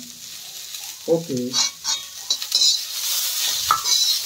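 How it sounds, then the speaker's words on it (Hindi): A spoon stirs a sizzling winter dish in a pan over a low flame, with scraping clatters of metal against the pan over a steady hiss of frying, and one brief spoken word. "अब उसको चला दीजिए बढ़िया से"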